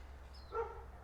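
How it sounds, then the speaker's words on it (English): A dog barks once at a moderate distance, a short tonal yelp standing out over a steady low indoor hum, with no talking. "Dogs are barking."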